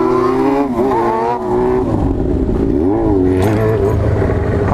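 Two Yamaha XJ6 motorcycle engines rev up and down repeatedly nearby during wheelies, pitch rising and falling with throttle blips, loud and continuous.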